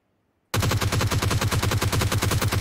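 Sustained automatic gunfire in PUBG Mobile during a tournament fight, starting abruptly after brief silence and rattling on in a rapid, even stream of loud, close shots.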